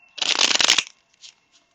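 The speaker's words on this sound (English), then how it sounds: "I'm going to shuffle the cards and let them fall out" Tarot cards riffled in a single quick shuffle, a dense papery flutter lasting under a second, followed by a couple of soft taps as cards settle, close and alone.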